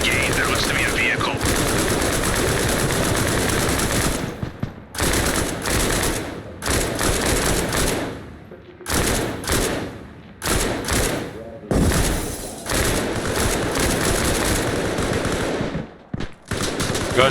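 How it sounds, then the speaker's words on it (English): Dense, loud bursts of rapid gunfire from a shooting training session, rattling in sustained volleys broken by short pauses and sharp thuds, with voices shouting at times. "start fucking shooting"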